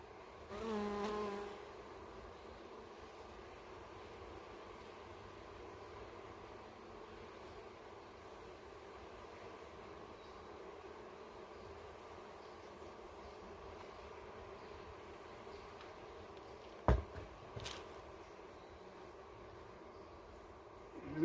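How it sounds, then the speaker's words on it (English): Honey bees from a hive being removed, a steady faint droning buzz throughout, with brief louder knocks and rustles near the end. "You can feel the bees, let the bees get out."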